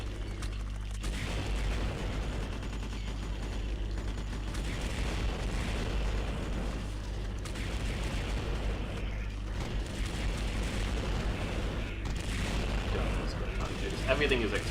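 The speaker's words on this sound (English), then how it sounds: "Everything is exploding." Explosions and gunfire in the video game Larva Mortus, a continuous dense rumble of booms and rattling shots that fills the whole stretch, loud and unbroken.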